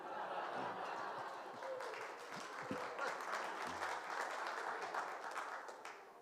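Audience applause fills a cabaret room, steady clapping from many hands with a few chuckles mixed in, sustained at moderate volume throughout.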